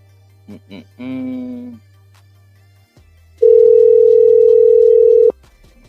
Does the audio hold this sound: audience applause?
no